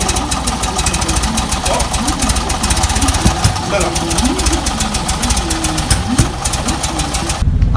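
A Fiat 126p's small engine runs loudly and steadily with a rapid, chugging idle, while a person talks over it now and then.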